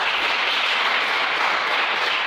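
A church congregation applauding, a dense continuous wash of clapping hands, steady and loud from start to finish, with no speech over it.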